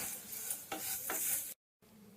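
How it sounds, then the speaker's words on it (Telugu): Grated coconut frying in a hot tempering of oil, a bright continuous hiss with a few scraping stirs, close, cutting to a brief silence before the sizzle resumes more quietly. "ఈ కొబ్బరి తురుము అంతా ఒక 1 మినిట్ ఫ్రై చేసుకోండి ఇదే తాలింపులో."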